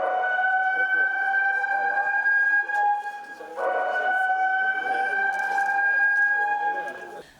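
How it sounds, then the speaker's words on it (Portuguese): A civil defense warning siren under test on a hillside in the Jardim dos Reis neighborhood, holding a loud, sustained two-tone wail with a short dip midway and fading at the end. "A sirene pode ser ouvida por toda a encosta aqui do bairro Jardim dos Reis."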